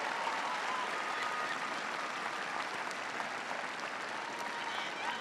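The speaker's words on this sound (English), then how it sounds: "Give her a big round of applause" A large arena crowd at a President Obama rally in Omaha's Baxter Arena gives a sustained, even round of applause, heard from a distance as a broad wash of clapping.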